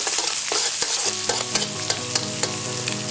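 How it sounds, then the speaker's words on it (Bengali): Egg stirred and fried in a pan for fried rice, with a steady bright sizzle and repeated clinks of a spatula scraping the pan, close and fairly loud, with no talking. "আমরা ডিমটা হালকা একটু ভেজে নেব"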